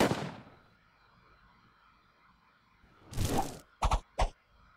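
Shooting in the Braveland Pirate PC game: a loud opening blast that decays, then after a quiet gap a heavier burst followed by two quick sharp shots, no voices.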